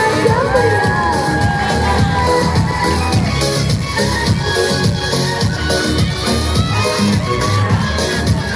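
An audience at a madrasah students' project showcase cheers and shouts loudly, with children's voices and whoops forming a dense, continuous crowd roar throughout.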